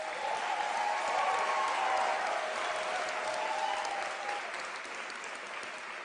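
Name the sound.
applause at graduation ceremony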